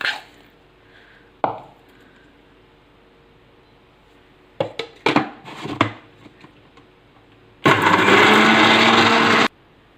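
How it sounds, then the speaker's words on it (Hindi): An electric grinder whirs loudly and steadily for about two seconds near the end, grinding chaat masala spices, after scattered knocks and clatter of ingredients being loaded into the jar. "और अब इनको हम ग्राइंडर में डाल के अच्छी तरह से पीस लेंगे"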